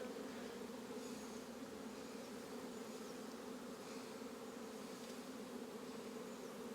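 Bees hum in a dense, continuous drone around open hive frames full of brood, a steady soft buzz with no smoke in use and no talking.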